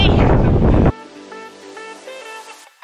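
A loud blast of wind buffets the microphone for about a second, then drops away to quieter outdoor background sounds.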